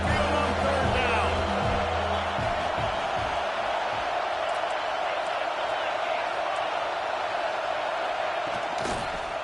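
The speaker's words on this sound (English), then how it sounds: "The Tide crowd roaring noise down on the Saban field on third down" Roaring Alabama Crimson Tide stadium crowd at Saban Field on third down in the College Football 26 video game, a dense, steady wall of crowd noise that holds loud throughout with faint thuds early on.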